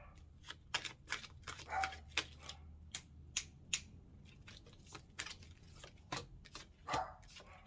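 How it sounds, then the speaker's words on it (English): Dogs barking outdoors in sharp, repeated yaps that sound somewhat distant and muffled, with a low background hum and no talking. "Oh, they just went outside to go bark at someone."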